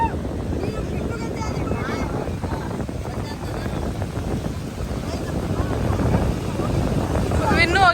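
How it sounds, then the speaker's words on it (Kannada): Boat approaching near Netrani Island off Murudeshwar, a continuous engine drone with wind noise that grows slightly louder over several seconds. "ಬೋಟ್ ಬರಾಕತ್ತೈತಿ."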